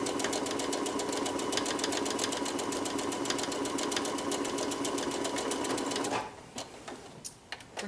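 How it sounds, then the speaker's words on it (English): Sewing machine running a continuous quarter-inch seam with a back tack at the start: a steady, rapid mechanical whir close by, holding for about six seconds before stopping abruptly, leaving faint handling clicks. "we're just going to run a seam from here to here"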